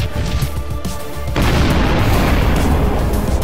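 A space combat shot in the Sunrider video game hits an enemy cruiser, ending in a heavy booming explosion that swells into a loud, sustained roar of blast noise.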